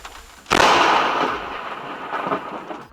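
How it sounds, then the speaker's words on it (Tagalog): A sudden loud thunderclap cracks and then rolls on in a long, rumbling decay, with a second swell of rumble toward the end. "bigla na lang siyang gugulatin ng malakas na kidlat"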